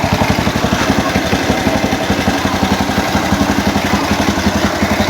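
An old Bajaj 100 motorcycle with a worn body, missing fuel tank and original standard CDI, engine running with a steady, rapid putter that holds loud and close throughout, with no talking.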